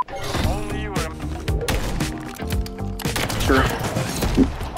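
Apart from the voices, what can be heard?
gunfire in a first-person shooter video game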